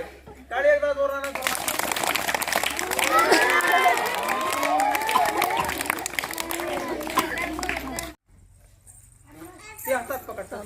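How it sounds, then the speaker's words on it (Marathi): Schoolchildren in a classroom clap and shout together, a loud dense burst of clapping and excited voices lasting about seven seconds before stopping abruptly, followed by quieter room sound. "टाळी एकदा जोरानं."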